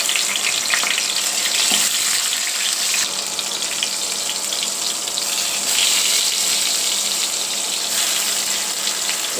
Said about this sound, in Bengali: এখন আমি তেল দিয়ে দিব।